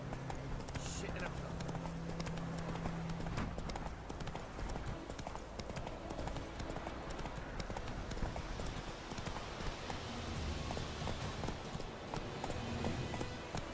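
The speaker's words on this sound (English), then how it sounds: "Giddy up. Whoa there, Roach. Move it" Horse hooves gallop in a steady, rapid clip-clop rhythm in a video game, continuous and fairly close, with someone talking over the sound.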